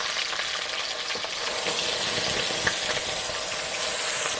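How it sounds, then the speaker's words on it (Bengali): Crab malaikari spice paste of onion, ginger-garlic, cumin, cardamom, bay leaf and dried chilli frying in oil in a pan, a loud steady sizzle that grows brighter and hissier partway through, with no voices. "এবার মশলাটা ভালো করে কষিয়ে নেব"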